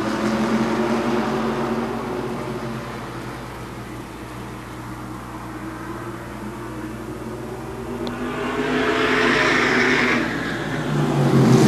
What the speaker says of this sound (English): And here they come, the ground pounding modifieds.